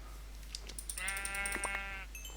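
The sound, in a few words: sheep bleating in a video game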